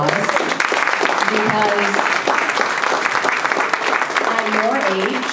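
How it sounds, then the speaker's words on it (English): Round of applause from an audience for young participants at a youth entrepreneurship challenge, steady clapping throughout with a voice talking over it. "I really love to give all of our participants a round of applause"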